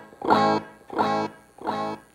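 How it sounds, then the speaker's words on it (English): Three strummed guitar chords, each ringing briefly and then trailing off in a faint repeating echo, with short quiet gaps between them. "And this is with the echo."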